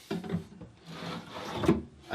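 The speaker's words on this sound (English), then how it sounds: "I'm gonna take these drawers right out." Wooden dresser drawers slide out with rubbing, scraping wood-on-wood friction, a couple of pulls close by, with a brief faint voice.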